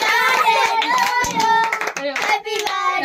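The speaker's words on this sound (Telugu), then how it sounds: "చప్పట్లు మళ్ళా" A group of people at a village birthday celebration clap their hands in a loud, close, rhythmic run of claps, with a voice and other voices audible through the clapping.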